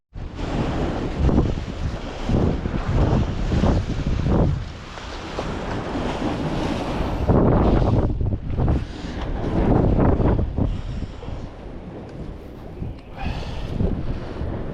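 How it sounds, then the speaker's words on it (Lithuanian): Strong wind buffets the microphone while sea waves crash and wash along a shore near a northern pier in Latvia, a loud, continuous roar that swells and dips in surges. "Nesimatė net kibimo per tas bangas. Bet matas pabiškį vėjas rimsta."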